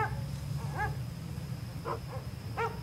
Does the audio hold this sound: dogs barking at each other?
yes